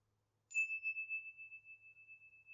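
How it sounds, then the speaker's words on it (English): A chime struck once during a sound healing session, giving a sharp metallic onset and then one clear, steady ringing tone that sustains without fading for over two seconds, heard close and alone. "Going back to one of my other favorite sounds as a chime."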